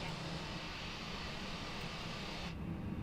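Airbus A320 jet engines in Microsoft Flight Simulator 2020 give a constant broadband roar, steady and even for the whole stretch, with the high hiss dropping away near the end.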